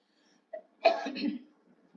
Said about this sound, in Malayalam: ഇടയ്ക്ക് ഒരു ചുമ വരുന്നുണ്ട് കേട്ടോ ക്ഷമിക്കുക